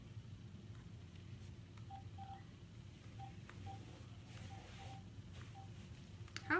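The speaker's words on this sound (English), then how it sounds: "who's calling? Check the phone right here." A phone at home signals an incoming call with a string of soft, evenly spaced electronic tones over a steady low background hum, with no talking.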